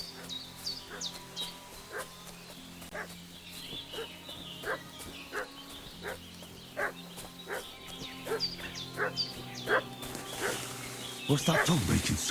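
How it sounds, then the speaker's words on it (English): In the medieval game Kingdom Come: Deliverance 2, a dog barks and fusses in a steady, repeated run of yaps over outdoor ambience with birds and a low hum, growing louder toward the end. "What's that dog making such a fuss about?"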